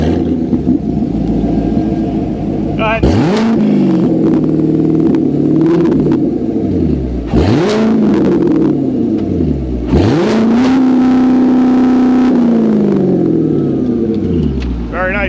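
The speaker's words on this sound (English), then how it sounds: "we got Jeff with a C7, and he's got the AWE touring exhaust" A Corvette C7 fitted with an AWE touring exhaust fires up and then revs three times, each blip a deep rising roar that settles back to a burbling idle, with a brief spoken prompt near the start.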